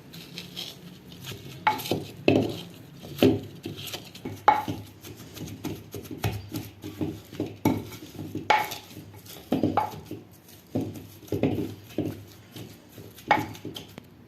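Deboned leftover chicken and boiled potato being pounded together in a bowl for cutlets, a close series of irregular dull thuds and knocks repeating every second or so over a quiet background, no voices.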